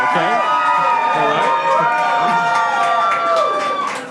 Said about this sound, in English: You cheer for the biggest loser.